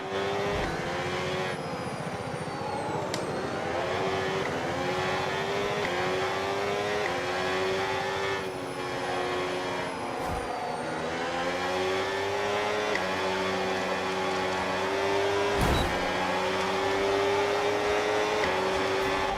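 Racing cars in a Formula One video game roar and accelerate, engine pitch rising and falling through gear changes, with brief tire squeals and whooshing passes, loud and continuous without speech.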